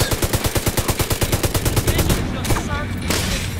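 Rapid automatic gunfire in The Division 2, a loud, evenly spaced burst of about two dozen shots over two seconds, followed by scattered impacts and softer battle noise.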